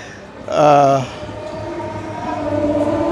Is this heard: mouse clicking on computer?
no